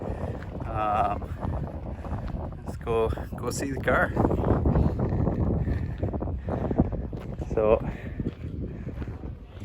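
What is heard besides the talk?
wind blowing outdoors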